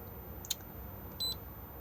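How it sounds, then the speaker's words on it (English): Key beeps from the control panel inside a Swift Conqueror 645 caravan: a short high beep near the start, then a slightly longer high tone a moment later, over quiet room hiss. "Key beeps on and off."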